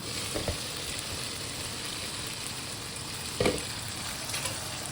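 Tofu shallow-frying in a pan gives a steady, close sizzle throughout, with a couple of brief louder crackles or stirs.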